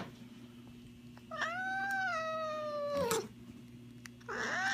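A cat lets out a couple of drawn-out, complaining meows close by, with a short rustle between them, while having its claws trimmed.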